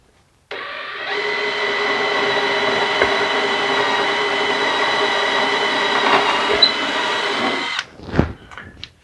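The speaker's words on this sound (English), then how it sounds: "So I'm going to start with a pilot hole here." A power drill bores a pilot hole in a wooden Passagemaker dinghy hull, running as one loud, steady whine for about seven seconds before spinning down, followed by a few knocks and rattles.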